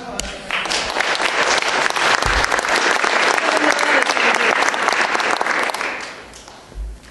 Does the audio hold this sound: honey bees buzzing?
no